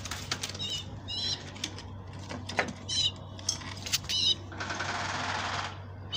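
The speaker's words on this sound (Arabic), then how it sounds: "هذا الحمام طبعا باين اهو" Pigeons flap their wings in short bursts of fluttering, with a few sharp claps and scuffs close by over a low steady hum, ending in a longer flurry of wingbeats.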